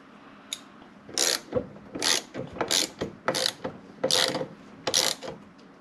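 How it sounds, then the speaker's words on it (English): A hand ratchet tightens a clutch nut onto motorcycle crankshaft threads, sounding as about seven close, loud bursts of rapid clicking separated by brief pauses. "we're going to torque this in place. It's about 29 to 32 pounds of torque."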